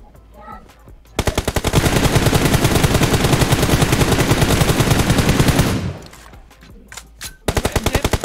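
Loud, sustained machine gun fire in PUBG Mobile, a rapid steady burst lasting several seconds, then a short quieter gap before another volley starts.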